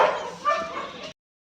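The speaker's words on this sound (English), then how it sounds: "Oh, there's all the dogs." Dogs at an SPCA animal shelter yip and bark in a steady, busy chorus for about a second, then cut off to silence before another brief burst of barking.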